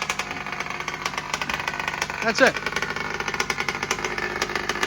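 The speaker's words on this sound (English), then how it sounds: "this is the very second time ever that this engine is fired up. And now she's going to run here for another 15-20 minutes." A RCMAX Supreme 55cc gas engine on a Primal RC dragster runs at a steady idle with a rapid, even pulse throughout, close and fairly loud, with a brief louder burst midway and a short spoken comment over it.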